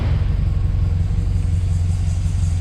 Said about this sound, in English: we're gonna do an engine start